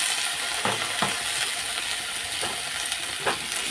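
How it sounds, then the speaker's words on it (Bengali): Potatoes and onions fry together in a pan with a steady, dense sizzle throughout, broken by a few soft scraping stirs of a spatula. "এখন আমি আলুগুলোও দিয়ে দেবো পেঁয়াজ আর আলু একসাথে ভাজা ভাজা হবে"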